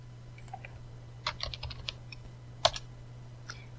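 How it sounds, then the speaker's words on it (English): Quiet, scattered keystrokes on a computer keyboard, a few short bursts of clicks with pauses between them, over a faint steady hum. "Now I'll type done at the prompt."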